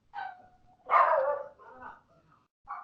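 A dog indoors gives a few sharp, close barks in short bursts, the loudest near the middle, with brief whining tones between them.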